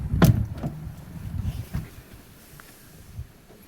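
The solid door of a 1965 Volvo P1800S thunks shut close by, followed by a few softer clunks and light rattles in a quiet space.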